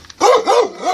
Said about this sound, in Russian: Это собачка.